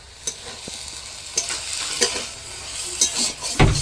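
Ivy gourd and potato chorchori fries in a pan while a spoon stirs it in a few distinct scraping strokes over a soft sizzle, ending in a louder clatter.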